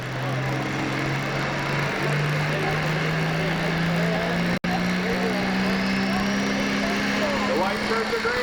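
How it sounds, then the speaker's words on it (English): A 12,000 lb pro pulling tractor at a 1998 tractor pull in Taylorville, Illinois, its engine droning loud and steady and climbing slowly in pitch as it revs, under continuous commentary. "He's got his hands on the throttle. He brings the RPMs up."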